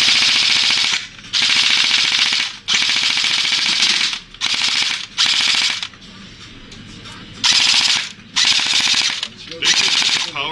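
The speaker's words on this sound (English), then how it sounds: "Basically, gun fires like this." Airsoft electric machine gun firing BBs at a high rate in repeated full-auto bursts, loud and close, each burst lasting one to two seconds with short pauses between.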